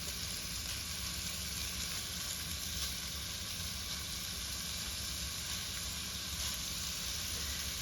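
Steak pieces browning in a hot skillet give off a steady, dense sizzle that stays loud and unbroken throughout, with no voices over it.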